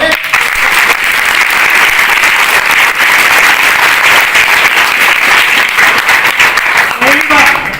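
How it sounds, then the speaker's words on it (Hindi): Loud, dense applause from a theatre audience during a stage play, clapping continuously for the teacher character, with a voice briefly heard near the end. "अपने सर के लिए जोरदार ताली बजाओ"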